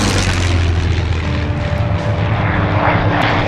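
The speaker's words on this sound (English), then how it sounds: "And another Mustang. Followed by another Mustang." A P-51 Mustang warplane passes at an air show during a European Theater demonstration, its propeller engine a steady, loud droning roar that holds close for the whole few seconds.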